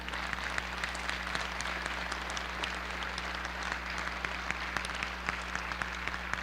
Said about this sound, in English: Let's give these candidates a big round of applause.